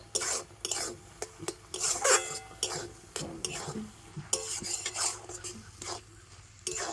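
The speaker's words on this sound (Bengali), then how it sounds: "তো আমের পাল্পটার সাথে সুজিটা কিন্তু খুব ভালোভাবে এইভাবে মিশিয়ে নেব" Semolina being stirred into ripe mango pulp in a bowl, irregular scraping and clinking strokes of a spoon, close and fairly quiet, with no talking.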